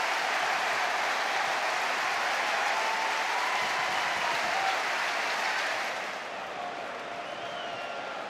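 A large stadium football crowd roars and applauds after a goal in Crystal Palace versus Norwich City, a dense, sustained wash of noise that eases slightly toward the end.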